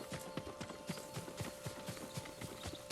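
Horse hooves clip-clop in a steady trotting rhythm in the video game Ghost of Tsushima, close and moderately loud over a constant game music and ambience bed, with no clear neigh.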